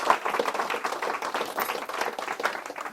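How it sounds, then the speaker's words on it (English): Audience at an escape artist stage show clapping, a steady close burst of applause from a modest crowd, no talking. "Let's have a big round of applause for Jesse and for John."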